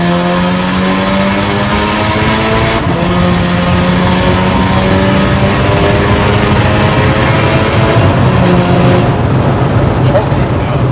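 A Volkswagen Golf MK6 GTI tuned to Stage 4 runs loud and close, its engine droning with a few pitch shifts that suggest revving. The sound continues steadily throughout the clip.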